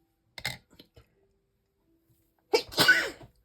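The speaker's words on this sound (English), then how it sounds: "If I sneeze, excuse me, it's coming." A single loud, close sneeze bursts out near the end, after a few faint soft sounds from someone crafting journal pages from book pages.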